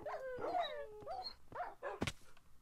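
A Minecraft dog whimpers and yips in rising, whining cries, then gives a sharp bark near the end; close and fairly clear with no speech.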